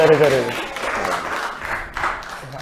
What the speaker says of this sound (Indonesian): Tepuk tangannya Mas.